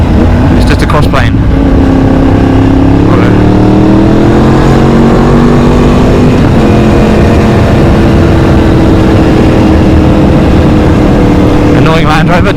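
Inline-four crossplane motorcycle engine running loud and close, its harmonic tone rising and falling with revs, heavy rumble throughout and brief sharper bursts near the start and end.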